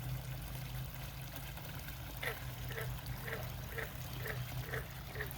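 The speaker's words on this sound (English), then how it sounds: "that's what's pumping all that water out in that thing" Water from a pump rated around 7,800 gallons per hour splashes over a DIY waterfall into a backyard bait pond, a steady broadband rush with a low hum, with soft rhythmic splashes repeating every half second near the end.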